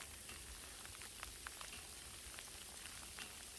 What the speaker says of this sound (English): it's a good freezing rain coming down right now